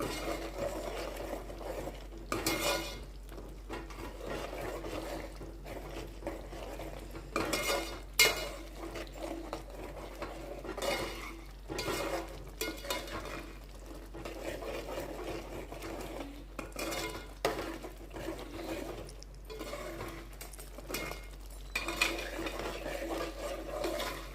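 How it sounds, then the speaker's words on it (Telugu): A spoon scrapes and stirs a telagapindi and raw prawn curry in a pot, making repeated soft scraping strokes with occasional louder knocks against the metal, close up, with no talking. "అడుగు కట్టకుండా జాగ్రత్తగా కలుపుకుంటూ దగ్గరుండి ఉడికించుకోండి"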